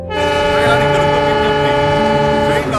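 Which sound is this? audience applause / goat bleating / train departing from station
train departing from station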